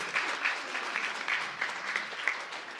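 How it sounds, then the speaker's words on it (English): Audience applause from a crowd of protesters, a steady dense clapping sustained at moderate level throughout, with no talk over it. "Give yourselves a round of applause."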